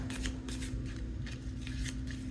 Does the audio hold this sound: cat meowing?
no